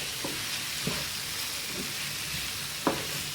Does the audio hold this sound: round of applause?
no